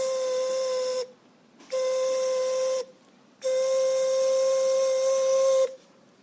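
A three-tone steam locomotive whistle sounds three times, a short blast, another short blast, then a longer one, each a steady chord of layered tones.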